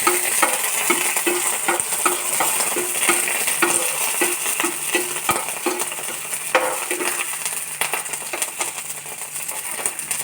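Curry leaves and dried red chillies fry in hot oil for a Kerala onion rice, a loud constant sizzle with rhythmic spoon taps and scrapes against the pan, close up and without voices.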